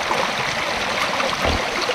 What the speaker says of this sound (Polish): Leśny strumień.